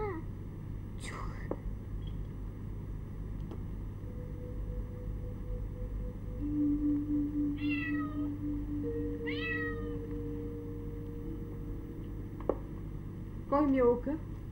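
Several high, drawn-out meows imitated by a person's voice, scattered over a quiet room with whispering and a steady background hum.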